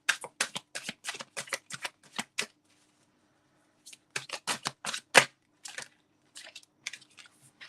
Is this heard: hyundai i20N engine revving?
no